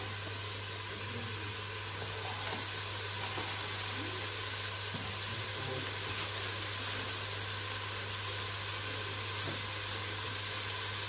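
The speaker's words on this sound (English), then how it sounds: "give it a bit of a stir. Let that all fry" Food frying in a pan as it gets stirred, a constant close hiss of sizzling oil with faint scrapes underneath, steady throughout and without any voices.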